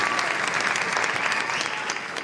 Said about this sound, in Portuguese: a plateia aplaudindo